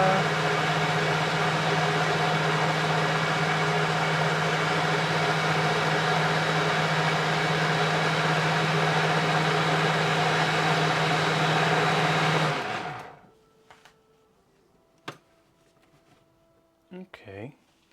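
A blender full of mush whirs with a loud, steady motor drone for about thirteen seconds, then cuts off abruptly, leaving a few faint clicks and knocks.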